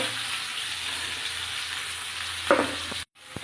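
Potato, peeled pointed gourd, dheki greens and chopped onion frying in oil with cumin, a steady close hiss of sizzling with a brief stirring clatter before a short pause.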